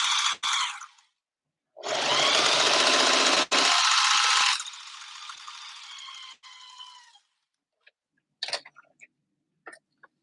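A sewing machine stitching through thick layers of seam allowance runs in a short burst, stops, then runs again in a longer loud stretch that fades into a lighter whir. A few faint clicks and taps follow near the end.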